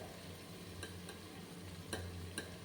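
Mutton biryani masala with turmeric powder fries in a pan: a quiet, steady sizzle broken by a few sharp taps and scrapes of stirring.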